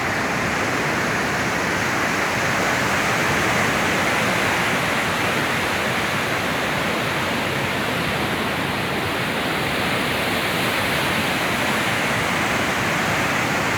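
Water rushes and churns steadily in Narmada river backwater beneath the Satpura hills, a dense continuous roar of flowing, bubbling water that is close and loud throughout, with no voices.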